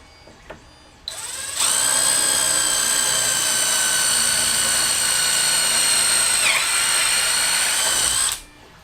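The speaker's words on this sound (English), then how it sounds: "I'm going to go ahead and drill into my four corners with this drill bit." A drill spins a bit into the corner of a CNC wasteboard, spinning up after a short pause into a loud, steady high-pitched whine that holds for several seconds and then winds down.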